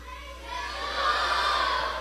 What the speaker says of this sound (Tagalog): Yan ay sigaw ng pagtatagumpay.